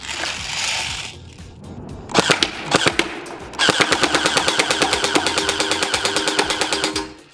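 An Elite Force H&K MG4 airsoft machine gun running on a 7.4 battery fires close by, first a few short bursts and then a long, steady rapid burst of loud, evenly spaced shots, with no talk.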